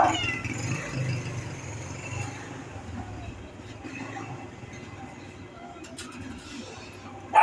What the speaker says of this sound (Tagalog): Daming pusa, oh.